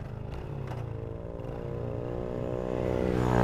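A heavily loaded motorcycle rides a mountain road near Cangar, its engine droning close with a pulsing, rough rumble that builds as it revs up toward the end.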